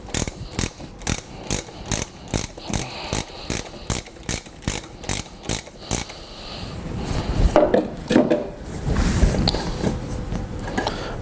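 A ratchet undoes the oil filter housing on a Range Rover L322 during a service, clicking in a steady run of about fifteen sharp, close strokes, then giving way to clunks and handling noise.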